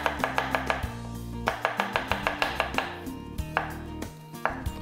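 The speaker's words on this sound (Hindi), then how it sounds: "ये हमारा प्याज चॉप हो गया।" An onion is chopped with a knife on a board, a quick run of sharp, evenly spaced taps that pauses and starts again in several bursts, close and clear.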